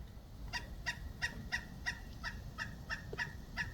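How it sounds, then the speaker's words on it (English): A large pileated woodpecker calls outdoors among trees with Spanish moss, giving a rapid series of about ten evenly spaced, loud, ringing notes, fairly near, over a low background rumble. "I have a beautiful, noisy, great big pileated woodpecker"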